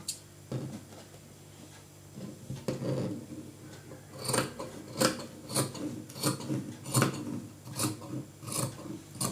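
Scissors cutting blouse fabric: a series of close, crisp snipping and rasping strokes that quicken into a steady rhythm after a few quieter cuts, with no talk.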